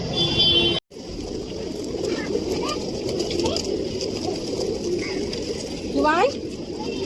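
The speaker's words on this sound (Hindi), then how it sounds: "बहुत सारे कबूतर हैं भाई, छोटे छोटे" Small pigeons on a rooftop being fed grain, cooing in soft repeated calls over a steady noisy background, with a brief dropout near the start and a louder coo toward the end.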